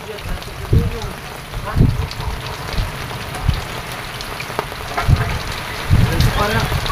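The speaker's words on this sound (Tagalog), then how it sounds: "Ulan na!" Rain patters steadily on a surface nearby, with scattered heavier drops and a few brief voices breaking through.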